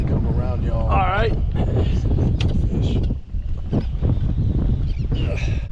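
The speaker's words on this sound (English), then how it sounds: "it's stupid windy. It's probably blowing 30" Strong wind buffets the microphone on a boat out on a lake while fishing, a loud rumbling roar that gusts steadily throughout, with a brief high whistle near the start.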